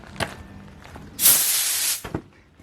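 A trigger spray bottle misting rust converter onto a bent Square Body Chevy frame gives one loud, close hiss of about a second, with faint clicks and handling noises before and after.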